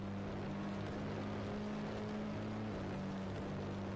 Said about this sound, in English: With the Porsche engine. It sounds absolutely horrible.